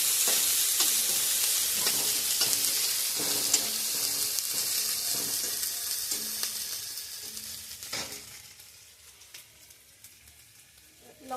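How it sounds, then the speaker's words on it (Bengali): Chopped onion and garlic fry in a pan while being stirred, a steady bright sizzle with repeated scraping strokes that thins out and grows quieter toward the end. "পেঁয়াজ কুচি দিয়ে দিয়েছি পেঁয়াজ কুচি একটু নেড়ে নিচ্ছি আমি"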